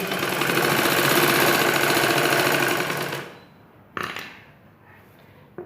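A sewing machine runs steadily while stitching a blouse along its lining, a continuous close whir lasting about three seconds before stopping, followed by a couple of faint handling clicks.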